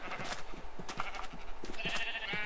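Sheep bleat from a small pen in the video game Minecraft, short repeated calls over a steady bed of game ambience, with no talking.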